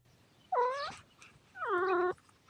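A cat called Mr. Kitters gives two drawn-out, wavering meows, each about half a second long, close and clear against a quiet background.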